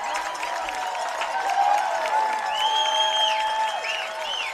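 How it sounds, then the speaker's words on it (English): Baseball crowd at a full count with two outs, a steady roar of cheering and clapping that swells in the middle, with whistles rising above it and no clear talk. "And the crowd starts to ratchet things up."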